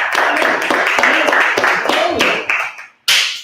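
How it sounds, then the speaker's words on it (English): A round of applause for a production chef at a bakery and catering demo: dense, loud clapping from a small group that thins out, stops briefly, then resumes, with voices mixed in. "Everybody give a round of applause"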